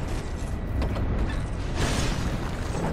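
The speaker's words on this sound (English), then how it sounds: "We're gonna come over here and open this door." A heavy door creaks and grinds open in Dark Souls 2, set in a gloomy castle area, with a mechanical ratcheting rumble over dense game ambience for about three seconds and a louder surge near the end.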